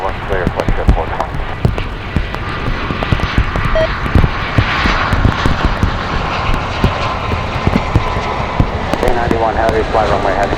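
A jet airliner roars down the runway on a wet day at Chicago O'Hare, its steady engine rumble loud and continuous for the whole stretch, while an air traffic controller's radio voice talks over it.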